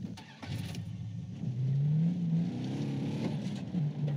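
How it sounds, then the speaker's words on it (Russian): A car engine in Far Cry 3 starts, then revs and pulls away steadily, a close, mid-pitched motor climbing and holding as the car is driven, with no talk over it. "берем машину и едем на встречу с баком"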